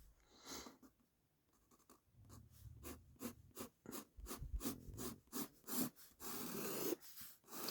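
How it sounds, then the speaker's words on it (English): Pencil or pen drawing on paper, quiet scratchy strokes in irregular repeated bursts, close and faint, with no talking. "I don't know what I'm drawing. I'm just drawing it."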